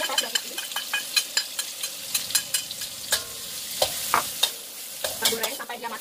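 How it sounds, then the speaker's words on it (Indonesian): Washed anchovies (teri) fry in a pan with a steady hiss of sizzling oil, broken by repeated scraping clicks of a utensil stirring them, close and fairly quiet. "Nah teman-teman, ini sekarang terinya saya goreng ya."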